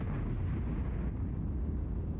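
Tank cannon fire in World of Tanks, from a player in an E25 tank destroyer firing from a rear position: a heavy, continuous low rumbling boom that fills the short clip at moderate level, with no talk over it.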